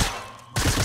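A quick burst of rapid gunfire from Fortnite's Prop Hunt mode, heard up close, with a short gap before a second volley.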